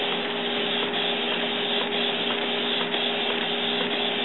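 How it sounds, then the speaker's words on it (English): A Canon PIXMA iX6820 inkjet printer fitted with a continuous ink supply system prints, giving a steady close whirring hiss with a faint mechanical hum throughout. "And now I'm printing something out."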